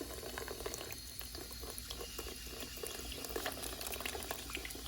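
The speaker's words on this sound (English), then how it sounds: "before I take off my stencil, I just like to rinse off everything" Tap water runs steadily at a kitchen sink, rinsing etching cream off a stenciled glass piece, a continuous close splashing wash with no talking.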